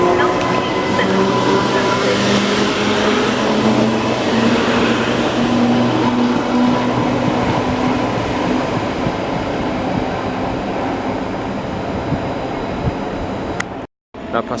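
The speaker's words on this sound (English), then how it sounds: "Now departing is a Class 230 D train on its way to Bedford." A Class 230 D-train diesel unit pulls out of Bletchley station toward Bedford, a steady rumbling roar with rail noise that holds loud and close before cutting off near the end.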